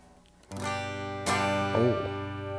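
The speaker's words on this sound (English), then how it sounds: "It's clean. There's like no distortion on that. There's just a little bit of hair now." An electric guitar with its volume turned down plays through a Boss OD-3 overdrive pedal, giving a nearly clean tone: a few ringing strummed chords and a short bent note, fairly quiet.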